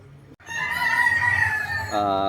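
Roosters and chickens at a fighting-cock farm, with a loud, close rooster crow stretching across most of the moment and clucking around it.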